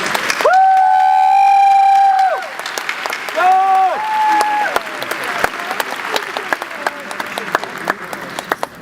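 An audience at a 2012 graduation ceremony applauds to welcome a speaker. The clapping is loud and sustained, with a few shrill whistles near the start, then slowly thins out.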